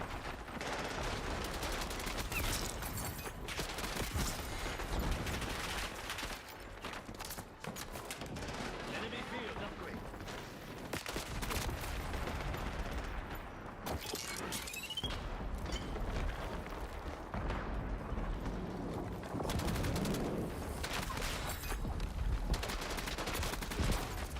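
Rapid AK rifle gunfire in the Call of Duty Warzone video game, bursts of shots running under steady talk from a player throughout.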